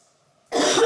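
A sudden loud, rough burst of coughing or throat clearing starts about halfway through, after near silence, close to the microphone and with no talk over it.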